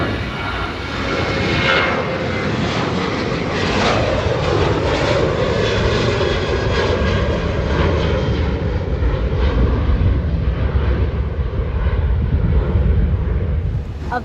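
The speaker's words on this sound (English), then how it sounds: "Southwest Airlines now departing to Las Vegas, runway 15, flight 1508." A Southwest Airlines jet departs Burbank's runway 15 for Las Vegas, its engines a loud, steady roar that holds without a break for the whole stretch.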